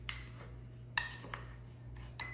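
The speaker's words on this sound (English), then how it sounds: "I'm gonna give this a good mix to get everything nice and incorporated" A spoon stirs dry overnight oats ingredients, including coconut shreds, in a container, making a few soft metallic clinks and scrapes at irregular moments over a steady low background hum.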